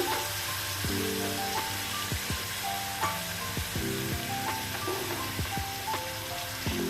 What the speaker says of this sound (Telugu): ఆనియన్స్ ఫ్రై అవ్వాలి